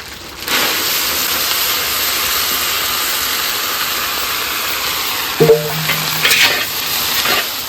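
Ginger and vegetables fry in a pan with a steady, close sizzling hiss that holds throughout, with a few louder stirring scrapes and clinks near the end.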